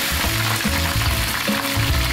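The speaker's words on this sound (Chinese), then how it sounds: "同样费工的还有店里招牌的炸猪脚，得先卤再炸，手续一道都不能少" Braised pork knuckle deep-frying in hot oil at a fried-food stall, a loud, dense, continuous sizzle and bubbling with low rumbling underneath, steady throughout and close up.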